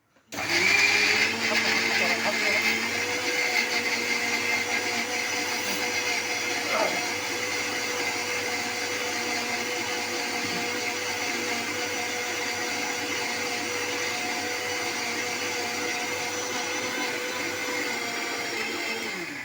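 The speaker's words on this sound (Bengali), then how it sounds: "আর কাঁচা লঙ্কা দিয়ে এটাকে মিক্সার গ্রাইন্ডার করতে হবে।" A mixer grinder runs steadily with green chillies inside, a loud continuous whirring motor hum that holds for about twenty seconds after a sudden start, with voices talking faintly underneath.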